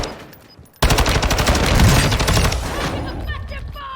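Gunfire in the video game Warzone 2.0 breaks in suddenly after a quiet moment as a loud, dense burst of rapid automatic shots, then tails off into a fading rumble.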